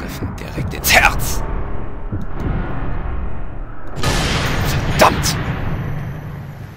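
Sniper rifle shots in the video game Sniper Elite 3, two sharp loud reports about four seconds apart with someone talking between them.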